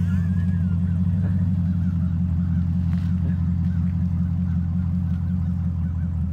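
A car stuck while entering a driveway spins its wheels with a steady, loud low engine drone and constant rumble that holds unchanged throughout, with faint background sounds over it.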